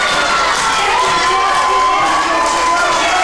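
A loud wrestling arena crowd cheers and shouts continuously at a combat match, with high voices yelling throughout and a sustained roar that never lets up.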